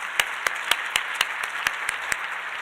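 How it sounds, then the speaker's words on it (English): Audience at a healthcare leadership symposium applauding a speaker, with a thin crowd clapping steadily and a few louder, evenly spaced claps standing out close by. "let's give Tim Beebe one more round of applause"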